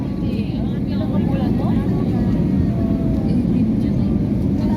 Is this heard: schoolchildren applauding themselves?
no